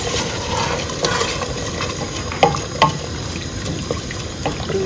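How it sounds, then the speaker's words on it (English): Hot water poured from a kettle into a pot of rice for waakye, a steady hissing splash running throughout with a few small clinks near the middle. "Let's go ahead and add our water from the kettle"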